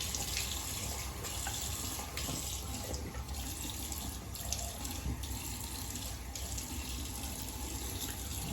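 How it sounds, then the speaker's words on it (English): Warm water runs steadily from a bathroom tap to rinse a vintage British Gillette No. 58 safety razor, a continuous close splashing hiss with small shifts as the razor passes under the stream. "I'll go ahead and use a warm water rinse on that razor"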